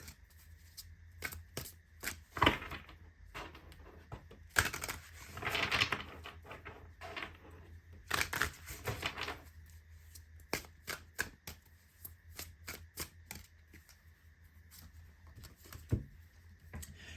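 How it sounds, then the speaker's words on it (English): Oracle cards from an Iris Oracle deck are shuffled and drawn, with quiet papery riffles and slides coming in several bursts of flicking and tapping spread across a softly murmuring room. "let's pull a card from this deck"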